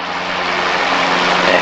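Steady, loud propeller aircraft engine drone from Microsoft Flight Simulator 2020 on a flight to the Isle of Wight, a continuous even roar with no talk.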